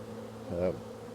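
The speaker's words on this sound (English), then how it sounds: "That's a good way to make the bees mad." Buzzing of honeybees around a hive with a brief louder swell as one passes close, over a steady hum of insects in the background.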